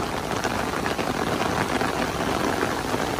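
Sudden heavy rain pours over the Manila Bay dolomite beach, a dense, steady hiss of drops falling close by without a break, with no voices standing out.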